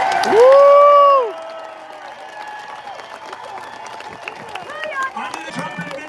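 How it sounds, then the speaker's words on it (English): A crowd at a Trump campaign rally applauds and cheers for the armed forces. A loud rising whoop opens it, then a sustained wash of clapping and cheering follows at moderate level. "So let's have a big round of applause for the men and women of the United States Armed"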